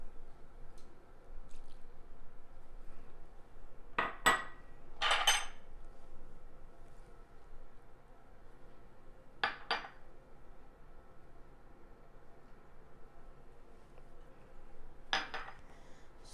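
A spoon stirs wet cookie batter ingredients in a bowl, giving a few short, wet clinking and squishing bursts separated by long quiet stretches, close and moderately loud.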